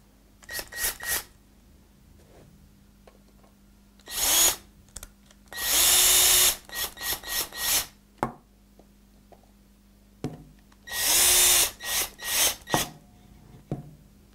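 Cordless power tool driving in fastening screws on a vacuum gripper valve, several short whirring bursts of varying length separated by pauses and small clicks of handling.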